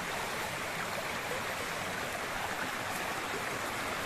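Clear mountain forest stream running through woods with bamboo, a continuous close rush and babble of water, even and full-bodied from start to finish.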